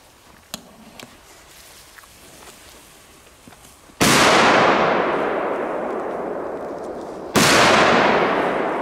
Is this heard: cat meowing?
no